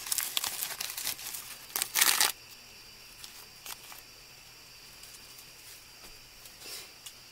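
Artificial Dollar Tree leaves are peeled off their plastic bushes, giving loud close crinkling and tearing rustles in the first two seconds, then only faint scattered crackles over a quiet room, with no speech.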